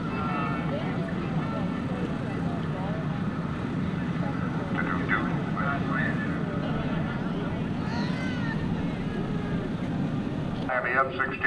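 An airplane at an airshow drones steadily in the distance as it prepares to touch down, under the continuous voice of an announcer talking over a public address system.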